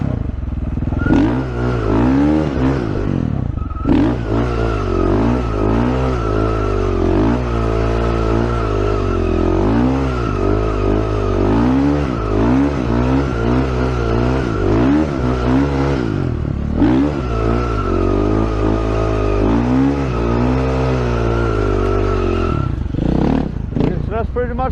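A motorcycle circles in a drift with the brake locked and the rear tire skidding, its engine droning steadily and loudly with rising and falling revs, a brief dip partway through, close and continuous.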